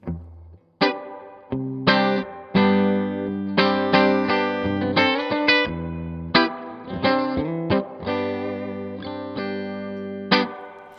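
An electric guitar runs through a Universal Audio UAFX reverb pedal set to a dense reverb. Picked chords and notes ring out alone, each leaving a long, washy decaying tail.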